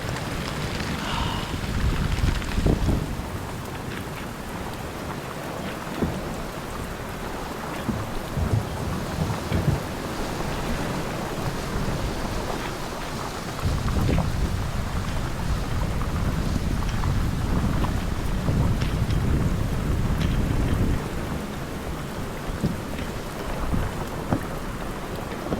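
A sudden torrential downpour drums hard and steady on the surroundings during a solo canoe camping trip in the Boundary Waters, with low rumbles of thunder rolling through the dense rain for the whole stretch.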